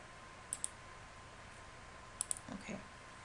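A computer mouse clicks as a blog gadget is removed, two quick crisp pairs of clicks in a quiet room, the second pair followed by faint soft handling noise.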